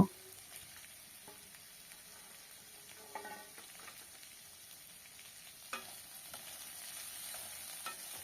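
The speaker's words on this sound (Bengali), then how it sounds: "ভালো মতো করে আলুর সাথে মটরশুঁটিটাকে মিশিয়ে নেব" Potatoes and peas being stirred in a pan for a cauliflower-potato singara filling, a quiet low scrape and faint sizzle with a few soft spoon clacks at intervals, no voices.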